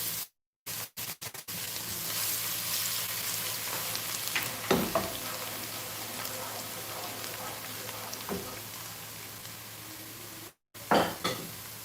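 Chopped garlic sautés in a hot pan during a live cooking session, a steady soft sizzle with a few clicks and clatters at the start, occasional louder crackles, and a brief drop near the end.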